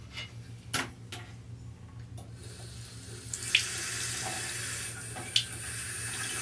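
A Smarterfresh bidet sprayer fitted to a sink faucet, being tested: a few soft clicks and knocks, then a steady hiss of running water that starts about halfway through and continues, close and moderately loud.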